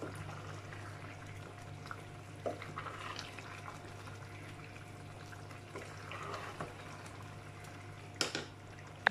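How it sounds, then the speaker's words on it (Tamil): Soft steady bubbling of beef biryani liquid boiling in a cooking pot, quiet and continuous, with occasional small pops and clinks. "இப்போ நல்லா கொதிக்குது."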